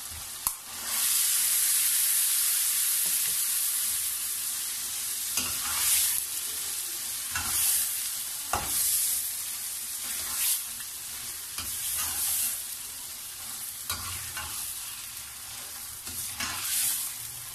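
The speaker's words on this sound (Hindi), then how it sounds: "अब हम इसे 5 से 10 मिनट तक भून लेंगे।" Mutton liver (kaleji) frying and being stirred with spices in a pan, a steady close sizzle punctuated by repeated scraping stirs, alone without any voices.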